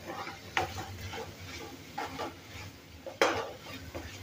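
Ginger and garlic sautéing in a pan over a low flame for puri bhaji, with three distinct scrapes or clinks of a spoon against the pan over a soft background hiss.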